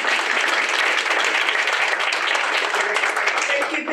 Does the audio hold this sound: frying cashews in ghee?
no